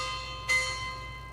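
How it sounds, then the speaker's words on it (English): A school warning bell rings once in the Twisted Wonderland video game, a bright sustained metallic strike that rises out of a steady droning musical background and slowly fades. "That's the warning bell."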